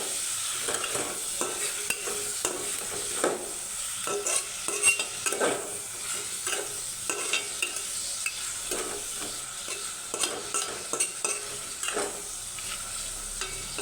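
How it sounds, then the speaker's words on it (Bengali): Spiced vegetable kabsa being stirred in a pan, a steady scrape-and-sizzle with repeated utensil strokes against the pan over continuous frying hiss, close and moderately loud, no talking. "এখন এটাকে একটু নাড়াচাড়া করে দেব"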